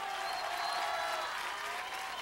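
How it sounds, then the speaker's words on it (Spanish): Audience applause at a Mexican variety show fills the clip with steady, dense clapping that stays fairly distant and even from start to finish, with no talk over it. "¡Chavos, ese aplauso!"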